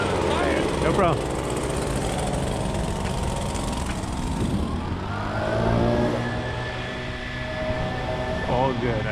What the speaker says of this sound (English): I do appreciate the leaf blowing